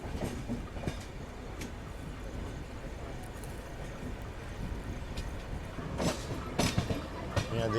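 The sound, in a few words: ALCO locomotive shunting in a railway yard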